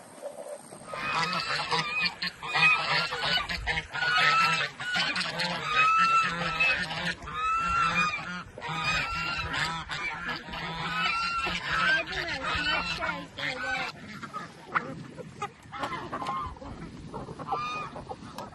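Farm geese and fowl honk loudly and repeatedly at feeding time, a dense, overlapping chorus of calls close by that thins out near the end.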